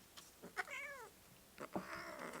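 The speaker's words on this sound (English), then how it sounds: "Yeah, get out of here. Fucking cat." A cat meows twice, a drawn-out falling meow followed by a longer, rougher yowl, faint against a quiet room background.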